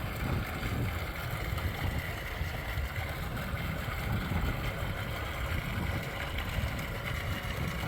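An AC/DC 2200W solar water pump with a 2-inch outlet, powered by eight 450W solar panels, runs with a steady, unbroken whooshing drone throughout, with no voices.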